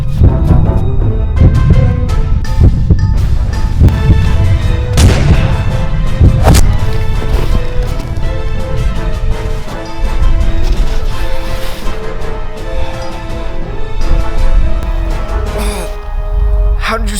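A pistol shot fired in a duel bursts out sharply amid dense, loud, continuous background sound. A few distinct impulsive cracks stand out, with a voice present.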